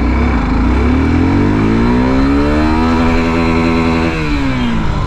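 Suzuki Gixxer SF 250 motorcycle with a 250 cc engine pulls away from a standstill in first gear, a loud close engine note rising steadily in pitch as it revs hard, then easing off near the end.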